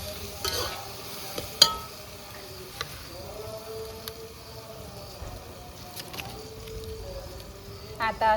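Peanuts fry for khichdi on a wood-fired clay stove, a soft crackling sizzle with stirring scrapes and occasional clinks, heard with light background voices.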